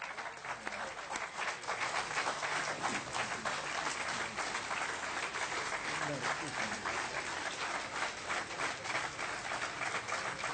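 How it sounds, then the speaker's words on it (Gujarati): Long, steady audience applause in a hall after a talk on the Gita, a thick, even clatter of many clapping hands heard close and continuing throughout without a break. "આટલો લાંબો સમય બહુ ઓછી વાર તાળીઓ પડી છે."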